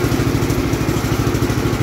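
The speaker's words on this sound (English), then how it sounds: "This thing runs pretty good." The engine of a Gravely 814 tractor that sat outside for years, with a burned-up PTO, runs with a steady, loud, close chugging idle and no talking.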